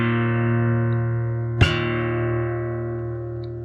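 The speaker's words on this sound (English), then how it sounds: "I do my wrist thump here, and then I kind of slam my middle finger down and try to hit the bottom 3 strings." On a fingerstyle acoustic guitar, a wrist thump and finger slam across the bass strings give one sharp percussive hit amid sustained ringing chords, close and clear, with no talking.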